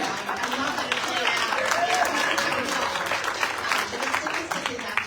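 A town hall audience for the 45th Legislative District claps steadily for several seconds, a dense, even wash of applause that fills the room. Any booing is buried in the clapping.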